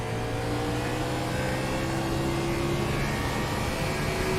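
An iRacing race car engine at Daytona Road builds revs while accelerating out of the bus stop chicane, a loud, steady, rising engine drone with no talking.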